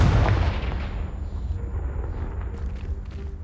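A loud, deep explosion from the Confringo blast spell in Hogwarts Legacy, bursting at the start and rumbling off into a fading low roar.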